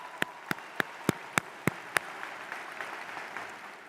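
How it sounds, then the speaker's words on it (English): Commencement audience applauding the anthem singer at a university graduation, opening with several sharp, evenly spaced loud claps near by, then fading into softer, scattered clapping. "Let's give her one more round of applause."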